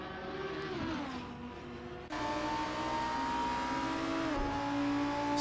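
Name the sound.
race cars in a racing video game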